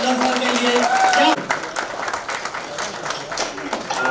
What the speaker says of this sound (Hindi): एक बार जोरदार तालियां होनी चाहिए गुरविंदर ढिल्लन सर के लिए।